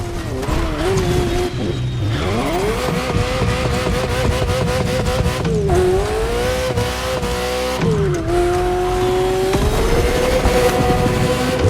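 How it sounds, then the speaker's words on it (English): A Ferrari F40 is driven in the racing video game The Crew Motorfest, its engine revving loud and close through repeated gear changes, with pitch climbing, dropping at each shift and climbing again, all without talk. "this Ferrari, bearing the apropos designation F40, was the last Ferrari automobile personally approved by Enzo Ferrari"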